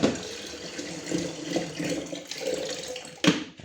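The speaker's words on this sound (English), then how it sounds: "fill it up with water" Tap water running into a small water heater, a continuous splashing flow with gurgling rises and a sharp clunk near the end.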